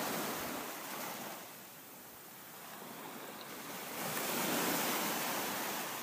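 Ocean waves and surf wash in a steady broadband roar, swelling louder toward the end, heard from a balcony with no voices.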